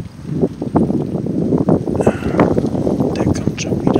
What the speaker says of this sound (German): Es ist sehr windig heute